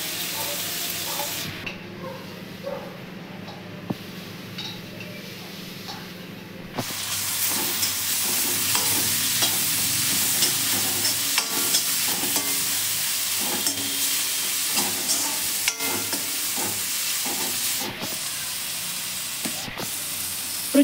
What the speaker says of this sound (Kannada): ನಾನು ಪೇಸ್ಟ್ ಮಾಡ್ಕೊಂಡಿದ್ನಲ್ಲ ಶುಂಠಿ, ಬೆಳ್ಳುಳ್ಳಿ, ಹಸಿಮೆಣಸಿನ್ಕಾಯಿ, ಇದನ್ನು ಇದಕ್ಕೆ ಹಾಕ್ತಾ ಇದ್ದೀನಿ ಫ್ರೈಗೆ.